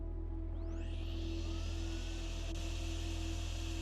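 A steady mechanical suction whir from a machine sucking up flood water in a video game, droning continuously with a low hum throughout, alone without talk.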